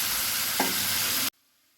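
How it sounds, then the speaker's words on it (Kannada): Boiled bitter gourd being fried with softened tomato in a pan, a steady broadband sizzle with brief stirring scrapes, close and loud, cutting off abruptly into near silence. "ಈಗ ಅದಕ್ಕೆ ಬೇಯಿಸಿಟ್ಟಿರೋ ಹಾಗಲಕಾಯಿ ಹಾಕಿ ಚೆನ್ನಾಗಿ ಫ್ರೈ ಮಾಡ್ಕೊಳ್ಳಿ"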